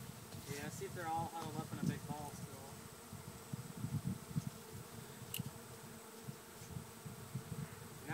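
A honeybee swarm hums faintly during capture at a farm, a soft steady drone under quiet conversation and occasional rustling.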